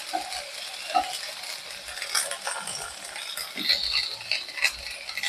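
Green chilies frying in oil with panch phoron, a soft, steady crackle and sizzle with light stirring scrapes, close by and moderately quiet, no voices.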